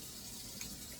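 Kitchen faucet running steadily into a sink during hand-washing while meatloaf is cooked, a faint, even hiss of water.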